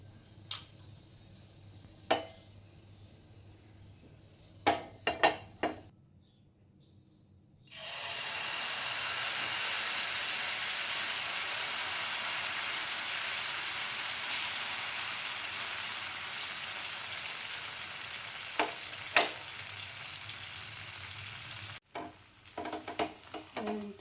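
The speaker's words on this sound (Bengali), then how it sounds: "এবারে আমি এটা ভেজে নেবো গোলা রুটির মতো" Egg batter frying in oil in a pan for egg paratha, a steady broadband sizzle rising suddenly and holding for about fourteen seconds, preceded and followed by a few sharp clinks of utensils.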